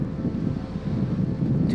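Strong wind buffets the microphone in the town of Mogollon, a loud, steady low roar with no gaps and no voices.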